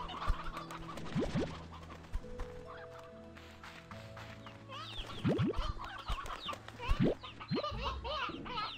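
Several hens in the video game Slime Rancher 2 cluck and squawk in overlapping bursts over a soft background drone, fairly close and busy.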